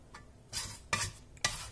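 Spices are stirred together in a cooking pot for an Eastern-style chicken and rice dish, three distinct scraping sweeps of a utensil against the pot, close and fairly quiet, with faint sizzling between strokes.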